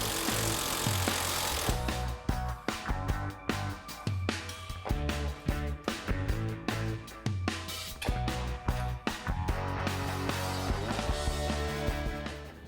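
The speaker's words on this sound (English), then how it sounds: "I'm going to put a wrench on the back and then take the nut off the front" An impact wrench hammers at the sway bar nut on a 2018-2023 Mustang GT in repeated loud rattling bursts with short pauses. The sound is close and harsh and runs throughout without talk.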